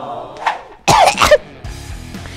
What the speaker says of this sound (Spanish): Mamá, me pongo a estornudar de los nervios